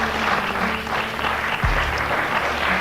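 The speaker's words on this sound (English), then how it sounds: "People applaud if you've seen one." An audience in a lecture hall breaks into steady applause, a dense wash of clapping that carries evenly through the moment without a break.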